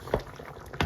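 Green chicken curry with beans being mixed in a pot, two soft wet liquid sloshes about half a second apart, faint and close.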